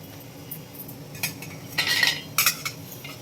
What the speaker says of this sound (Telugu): ఉల్లిపాయ ముక్కలన్నీ ఇందులో వేసేసుకోండి. మిక్సీ జార్లో ఉల్లిపాయ ముక్కలు వేసుకునేది.